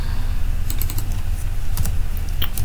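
Quick bursts of typing on a computer keyboard, a scattering of light key clicks in short clusters, close and clear against a low steady background hum, no talking.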